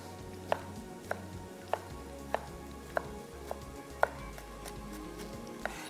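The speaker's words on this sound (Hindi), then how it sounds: "टमाटर फाइन चॉप, अच्छा जब तक मैं ये चॉप कर रहा हूँ" Knife chopping tomatoes finely on a board while white biryani is being prepared: sharp single chops at a slow, uneven pace, around eight in all, over a low kitchen hum. No one speaks.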